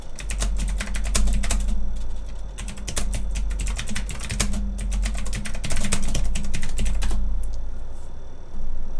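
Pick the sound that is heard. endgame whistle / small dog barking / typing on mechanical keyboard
typing on mechanical keyboard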